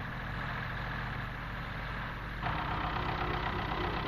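A 1960s David Brown Selectamatic tractor runs with a mid-mounted hydraulic mower, its engine a steady, rough low drone that grows slightly louder partway through.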